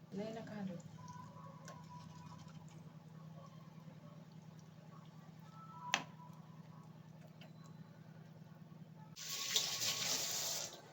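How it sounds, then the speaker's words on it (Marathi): Water poured steadily into a cooking pot of murrya fish curry with coriander on a gas stove: a quiet continuous trickle that swells into a louder rushing splash near the end. "बघा पाणी ओतून झालं"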